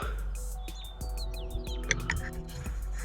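Small birds chirp and tweet outdoors during a thermal scope session, with scattered short high calls over a steady low hum.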